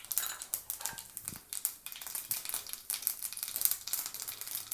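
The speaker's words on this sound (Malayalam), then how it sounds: "എണ്ണ ചൂടായി വന്നിട്ട് നമ്മൾ കടുക് ഇട്ടതിന് ശേഷം കടുക് പൊട്ടി വന്നതിന് ശേഷം" Mustard seeds spluttering and popping in hot oil for an Onam-style erissery, a close, dense crackle of sharp pops and sizzle that runs steadily throughout with no talk.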